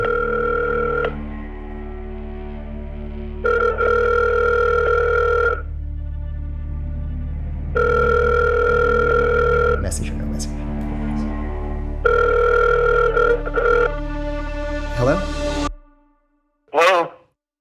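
A video-game phone call: a steady dial tone, then repeated ringback tones in long evenly spaced bursts, with brief keypad-like beeps and a click near the end, loud and clear.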